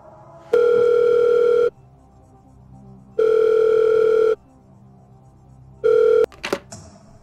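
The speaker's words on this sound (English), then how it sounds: "through the magic of technology, we will phone your friend" A telephone line rings in three long electronic tones separated by silences, the last one cut short, followed by a click and brief handling noise as the call connects.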